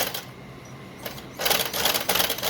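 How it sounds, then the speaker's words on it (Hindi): Sewing machine stitching lace onto a pair of trousers, a quiet mechanical whir for the first second, then a louder, steady run of rapid stitching that pauses briefly and resumes. "और मैं इसको सिलाई देती हूँ।"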